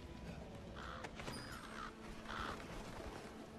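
A few distant crow caws ring out in the video game Dragon's Dogma: Dark Arisen, over a quiet, faintly droning background, with soft thumps and a thin tone in between.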